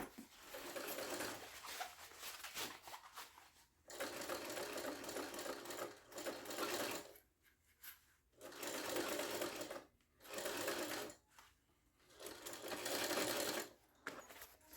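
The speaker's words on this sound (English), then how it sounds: "clip it and sew it together at 3/8 of an inch seam allowance" A sewing machine stitches a backpack gusset seam at a 3/8-inch seam allowance, running in loud, steady bursts of several seconds each, separated by short quiet pauses.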